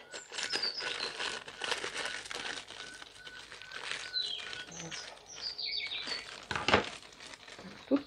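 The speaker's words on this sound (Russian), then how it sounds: "Вот, мы разрезаем пакетик." A plastic packet of Blue Isle gladiolus bulbs is cut open and handled, giving close crinkling and rustling with snips and scrapes throughout and a sharper crackle near the end.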